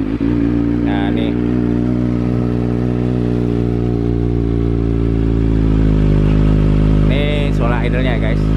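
A Kawasaki ZX25R four-cylinder with an Akrapovic exhaust idles close by with a loud, steady deep burble. Voices talk over it in a couple of brief bursts.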